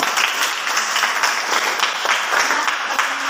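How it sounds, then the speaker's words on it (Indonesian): Classroom applause for a student after a poetry definition, a steady wash of clapping hands held at an even level from start to finish with no voices over it. "tepuk tangan buat Sinando"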